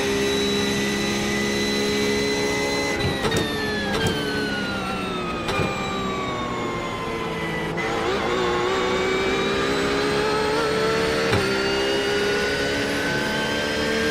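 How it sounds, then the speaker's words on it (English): A Ford Mustang GT3 race car in the iRacing simulation at Sebring screams loudly, its engine note rising through the gears with sharp shifts and brief lifts, continuous and unbroken by voices. "You can hear that Mustang now."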